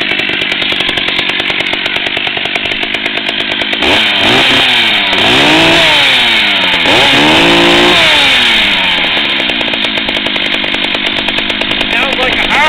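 A Stihl chainsaw running loud and close, a sustained buzzing engine drone that revs up and down in several surges before settling back to a steady roar.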